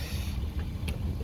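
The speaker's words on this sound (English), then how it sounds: "I apologize for the wind and possible rain if it's in the way" Wind gusts outdoors around a 2015 Ford F-350 4x4 diesel pickup, buffeting the microphone with a low, rumbling roar. A couple of faint, brief knocks sound over it, and no one speaks.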